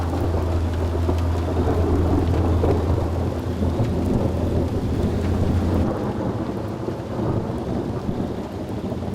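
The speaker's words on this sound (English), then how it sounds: "a raging thunderstorm puts on an amazing light show over Winnipeg" A raging thunderstorm over Winnipeg, with loud, steady rain roaring throughout and deep thunder rumbling underneath that fades partway through, heard alone without voices.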